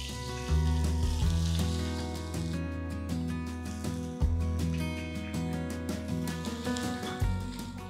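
Onions sizzle and fry in a hot pan while cooking a Tuguegarao-style pancit, a loud close crackle that flares as they are stirred, with occasional scraping clatter and background music.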